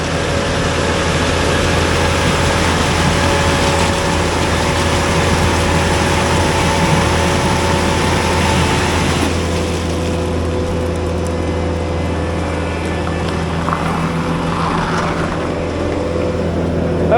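A volumetric concrete mixer runs steadily with its auger turning inside a long tube, a loud continuous mechanical drone and low hum that stays even throughout without pauses.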